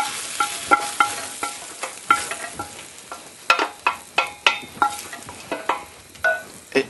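Onions browning in a cast-iron pot give a soft background sizzle, broken by repeated close scraping and stirring strokes at a fairly regular rhythm.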